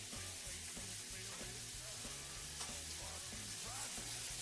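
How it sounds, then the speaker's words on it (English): Meat sears over a hot grill flame with a steady, close sizzle that runs unbroken throughout, while rhythmic low tones pulse beneath it. "we're going to sear them first."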